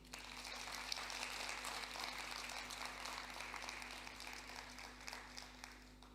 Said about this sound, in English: I want to pause and ask our graduates to please give a warm hand of applause